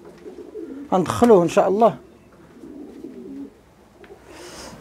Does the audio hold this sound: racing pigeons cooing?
yes